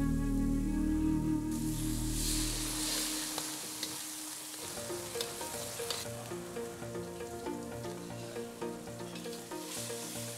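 Diced ingredients including ham, shiitake and button mushrooms, chicken, pine nuts, raisins, tofu and bamboo shoots stir-fried in a wok, a loud continuous sizzle with scraping stir strokes and a brief louder hiss partway, no talking.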